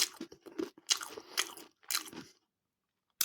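Close, crisp biting and crunching into a Lidl pizza sub, several quick crunchy chews in a row followed by a pause and one more bite at the end.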